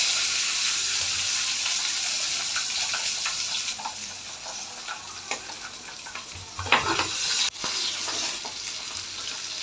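Fish sizzling and spitting in hot oil in a pan, a steady loud fry with crackles and a few sharper pops and scrapes as pieces are handled partway through; no talking.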